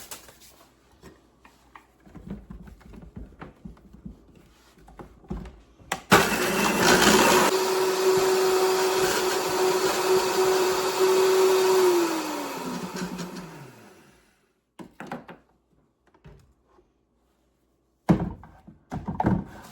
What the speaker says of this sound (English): So I am just going to throw it in the Vitamix.